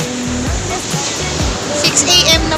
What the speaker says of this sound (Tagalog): napakalakas na ng alon